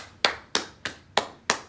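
Single person clapping five times in a steady, evenly spaced rhythm, sharp close claps with short decays, no voices.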